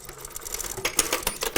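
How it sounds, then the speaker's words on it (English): Sewing machine stay stitching along a slanted trouser side pocket, a quick close run of rhythmic needle clatter with faint ticks. "I'm going to stay stitch along here"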